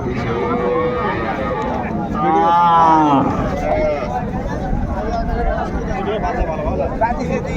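A dairy cow gives one long, loud moo nearby at Raniganj cattle market amid background chatter and murmuring voices.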